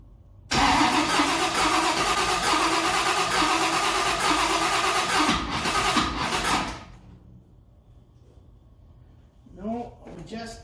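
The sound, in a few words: 1955 Chevy engine cranking and trying to start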